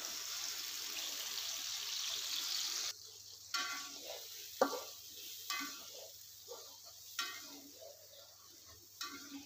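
Spice paste hitting hot reused cooking oil for sambal, a steady loud hiss that drops away, then soft stirring scrapes and wet sizzling bursts at a slow, uneven pace.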